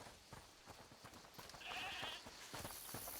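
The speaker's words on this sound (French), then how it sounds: "Écoutez, c'est la chèvre du monsieur" Goat bleating in the video game A Plague Tale: Requiem, a faint wavering bleat under soft footsteps and a light clip-clop rhythm, set against low ambient background noise.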